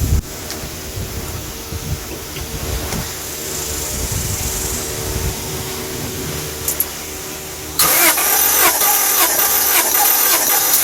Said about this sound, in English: Start up the car and it should turn over at least 5 times, and then the PSI should go up.